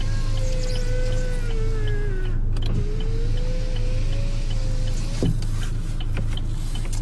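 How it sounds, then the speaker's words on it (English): Electric power window motor on a 2022 Chevrolet Cobalt, a steady whirring hum with a rising and falling tone running for several seconds, with a faint clunk near the middle, heard close up and alone. "Power windows."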